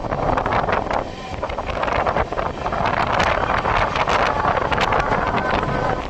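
Cold night wind rushing in at the open door of a moving train travelling from NJP to Guwahati, a loud continuous buffeting roar with rumble underneath and no voices.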